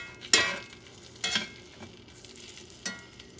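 Squashed garlic sizzling in a hot pan alongside beef tenderloin, with a few sharp scraping stirs over a soft steady fry, close and clear, no one talking.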